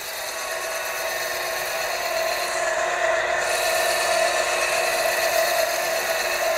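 A mini lathe cuts steel with a steady, continuous high whine and scraping hiss, even and unbroken throughout, heard up close with no talking.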